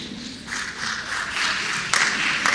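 A Stanford graduation audience breaks into applause, the clapping swelling gradually and then surging in louder bursts toward the end.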